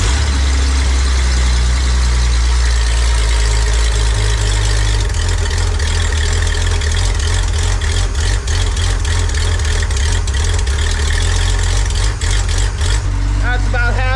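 A 1965 Ford Econoline truck engine runs at a loud, steady idle with a deep low rumble, its tone shifting partway through and roughening toward the end, with a person talking over it.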